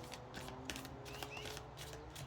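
Tarot cards are shuffled in a steady, continuous riffling rustle, close and fairly loud, running the whole time without any talk.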